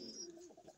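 Soft, low cooing from a pigeon named Velvet perched up in a breeder's cage, a single brief rolling coo heard faint and close with no talk.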